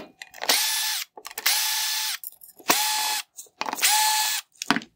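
A power screwdriver backs out Phillips screws holding the xenon projector in a 2016-2018 Hyundai Tucson headlight: four close, whirring bursts of about a second each, separated by short silences.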